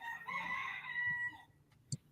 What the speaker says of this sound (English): Was that a rooster?